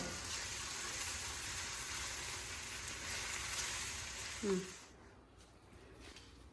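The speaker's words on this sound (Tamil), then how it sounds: "இந்த மாதிரி வதக்கணும். இப்படி வதங்கினா போதும்." Green chillies sauté in hot oil in a pan for a chilli thokku, giving a soft, steady sizzle that fades near the end, with a brief clatter and someone speaking over it.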